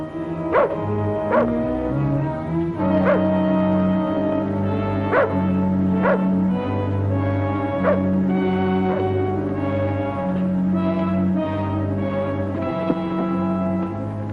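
A dog in an old boxing-fight film scene barks in sharp repeated yaps and whimpers at irregular intervals for the whole stretch, over steady low background music and noise.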